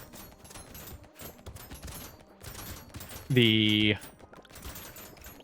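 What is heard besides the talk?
gunshots from piercing shots in the video game Brotato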